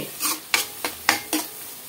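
Onions frying in a pan for a dhaba-style egg masala curry are stirred with a utensil: five brisk scraping strokes at an even rhythm over a faint, close sizzle.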